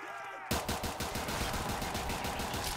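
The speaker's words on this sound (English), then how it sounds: "I'm literally killing zombies on round 22 with a pistol with double tap." Rapid pistol fire boosted by double tap in Black Ops 3 custom zombies on round 22, a burst of quick, evenly spaced shots starting abruptly after a brief quiet moment and continuing loud and close to the end.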